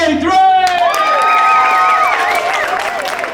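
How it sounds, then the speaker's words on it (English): A theme park studio backlot tour audience at a Memphis Belle show erupts together, with loud, sustained cheering, shrill whistles, clapping and stamping close at hand. "Now on the count of 3, I want you to clap, cheer, wolf whistle, stamp your feet"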